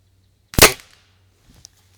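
One sharp, loud shot from a budget spring-piston air rifle, close by, followed by a faint click or thud about a second later, with no talk.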